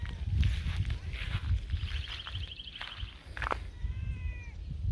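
A cat meows several times close by, a clear crying call followed by shorter wavering mews, over low rumbling background noise.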